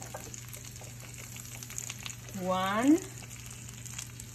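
Brussels sprouts with soy sauce stir-fry over high heat, a soft steady sizzle with a brief louder hiss near the middle, under a short spoken word.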